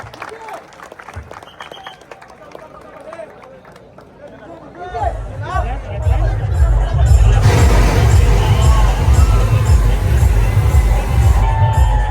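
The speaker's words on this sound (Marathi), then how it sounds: "सर्व रसिक प्रेक्षकांनी जोरदार टाळ्या वाजल्या आणि त्यांचं अभिनंदन करूया" A crowd at a Dahi Handi event in Ratnagiri-Sindhudurg bursts into loud applause and cheering, rising after a few seconds of chatter and holding as a dense roar of clapping and shouts.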